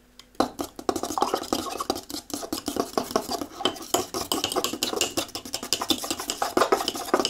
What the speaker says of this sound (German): und dann wird das Ganze gerührt.